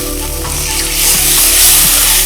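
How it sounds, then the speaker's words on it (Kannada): Bottle gourd halwa sizzles steadily in a hot pan as milk goes in, a continuous close frying hiss that swells slightly toward the end, with no voices. "ಈಗ ಇದಕ್ಕೆ ಒಂದು ಸ್ವಲ್ಪ ಹಾಲು ಹಾಕೋಣ."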